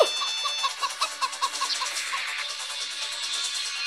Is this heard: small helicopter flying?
no